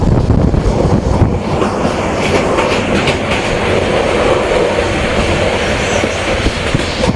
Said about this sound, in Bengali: প্রচণ্ড তীব্র স্পিড আমাদের আন্তনগর কক্সবাজার এক্সপ্রেসের